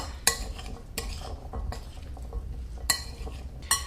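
A spoon scrapes and clinks in a bowl as chickpea and spinach salad is tossed with vinaigrette, with a few sharp knocks against the dish over soft, steady stirring, close and alone.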